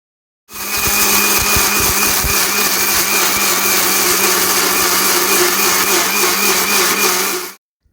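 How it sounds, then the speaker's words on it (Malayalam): A kitchen mixer grinder whirs loudly and steadily for about seven seconds, blending banana pieces with milk, then cuts off abruptly. "ചെറിയ ചെറിയ കഷ്ണങ്ങളാക്കി അത് മിക്സിയിലിട്ട് അതിലേക്ക് 1/2 കപ്പ് പാല് ചേർത്ത്"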